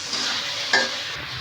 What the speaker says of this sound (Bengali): এখন ভাজা আলুগুলো দিয়ে দেবো, একটু কষিয়ে নিয়ে নেবো মশলার সঙ্গে।